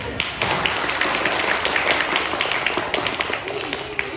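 A mosque audience claps steadily in a close, continuous, fairly loud patter of many hands, sustained evenly throughout with no voices.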